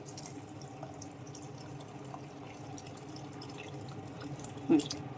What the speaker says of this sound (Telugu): సరే నీళ్ళు పోసేద్దామండి